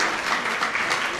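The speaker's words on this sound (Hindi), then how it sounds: "उनके लिए भी तालियां।" An audience applauds at a parenting workshop session, a brief, even wash of many hands clapping, moderately loud with no talk over it.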